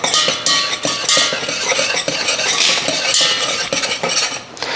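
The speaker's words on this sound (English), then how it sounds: "Actually, I'm gonna use this whisk." A whisk beats homemade biscuit batter in a bowl, a brisk, continuous stirring and clinking that runs steadily for the whole stretch at close range.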